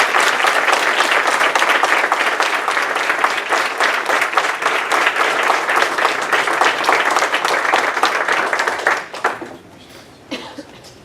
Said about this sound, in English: Clap one more time